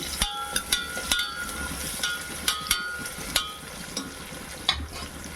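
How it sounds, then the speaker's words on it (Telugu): Onion pieces frying in a pan for mutton keema curry, a steady sizzle with sharp spatula clicks and scrapes against the metal at irregular intervals, close and moderately loud. "ఉల్లిపాయ ముక్కలు బాగా ఫ్రై అవ్వాలి"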